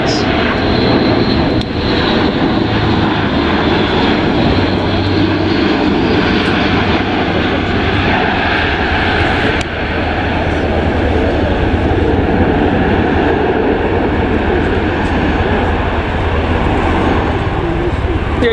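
Airbus A400 military transport aircraft passing at an air show with its undercarriage down, a loud continuous propeller-turbine roar that holds steady throughout, with an announcer's voice over the public address under the engine noise.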